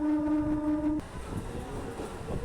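A fast local train on the Burdwan–Howrah line sounds a loud, steady horn tone that cuts off after a second, leaving a rumbling, rattling roar of the passing train close by.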